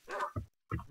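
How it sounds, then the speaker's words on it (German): A wolf in the Minecraft video game giving two quick barks, short, close and moderately loud, separated by a brief pause. "Da ist ein Wolf und da ist noch eine Kuh."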